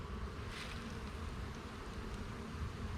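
Honeybees buzz steadily throughout an early spring hive inspection, a dense, continuous drone close by with no talking.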